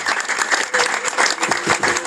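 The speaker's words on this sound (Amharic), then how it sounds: "እግዚአብሔርን በእውነት ስለሱ አጨብጭቡ።" A church congregation claps steadily together, a dense, loud wash of applause filling the room and sustained throughout without a break.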